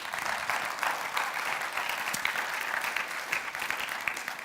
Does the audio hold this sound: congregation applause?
yes